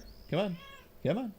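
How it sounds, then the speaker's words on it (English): Two clear meows from a nearby cat, a second apart, with a person softly coaxing in between. "You could definitely hear him meowing in the background."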